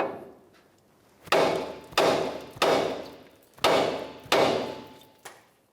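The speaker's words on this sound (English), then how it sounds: "Let's give it a loving bonk with the hammer to break it free." A hammer strikes a steering knuckle on a 2004-2015 Nissan Titan to break a ball joint free: five loud, close metallic blows, each one ringing briefly before it fades, spaced roughly half a second to a second apart.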